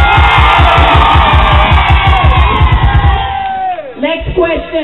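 A loud political rally crowd in New Amsterdam, Guyana screams, whoops and cheers continuously, with rhythmic chanting or stamping pulses through the first three seconds before the roar swells and wavers.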